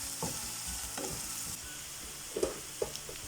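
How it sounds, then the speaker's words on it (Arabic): Onions softening in vegetable oil in a frying pan give a steady bright sizzle, with a few scraping strokes and light knocks of a stirring utensil scattered over it; no voices. "قد وضعت البصل في المقلاة مع الزيت النباتية حتى تذبل ويصبح لونها ذهبي شيئا ما"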